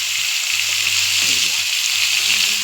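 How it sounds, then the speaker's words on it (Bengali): Green papaya pieces fry with turmeric and salt in a pan, a loud, dense, continuous sizzle close up with faint stirring underneath and no talk. "দেখো দেখো এই যে পেঁপেটা ভেজে নিচ্ছি, লবণ দিয়ে দিলাম"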